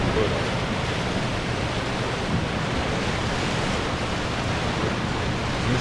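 Water rushes out of Hartwell Dam on the Savannah River during power generation, a steady, loud broadband roar like heavy surf that continues unbroken throughout.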